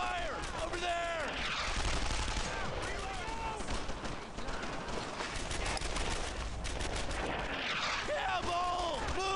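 Gunfire in Brothers in Arms: Earned in Blood, with sustained rapid bursts of rifle and machine-gun fire and heavy booms, loud and dense throughout, with shouting players talking over the battle.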